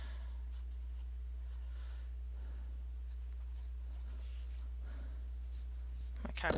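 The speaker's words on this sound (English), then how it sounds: "And then I'm going to write what's left." Pen or pencil scratching on paper while an equation's solution is worked out by hand, faint continuous strokes over a steady low hum, ending in a brief louder rustle.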